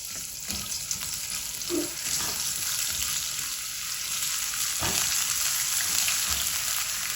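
Loud, hissing sizzle of ginger garlic paste hitting hot oil, a dense continuous crackle with a couple of soft clunks, heard up close without speech.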